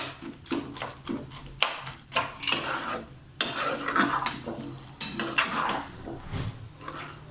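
A spatula chops and stirs roadside-style mushroom masala in a pan, giving repeated irregular metallic scrapes and clanks with bursts of tapping, close and fairly busy, with no talking.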